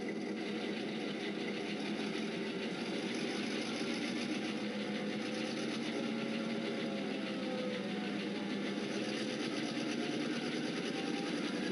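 A Kato N scale model locomotive sound box runs a steady diesel engine drone that slowly rises in revs, faint and continuous with no voices.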